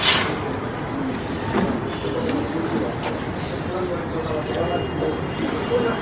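Soft pigeon coos and a few chirps sound from nearby birds on a pigeon farm over a steady outdoor background, continuing throughout.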